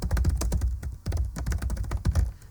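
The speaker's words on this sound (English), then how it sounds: "type in some random things" Rapid, uneven typing on a computer keyboard while entering text in Microsoft Word, with dense clicking keystrokes in quick bursts, close and fairly loud, with no talking.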